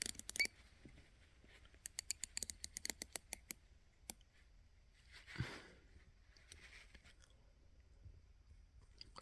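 A unidirectional 60-click wristwatch bezel is turned by hand, giving a quick run of faint, close, sharp ratcheting clicks in bursts, then a soft rustle and a few scattered clicks.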